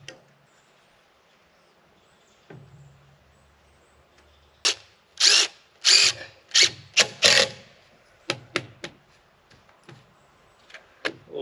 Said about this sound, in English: then run some screws in.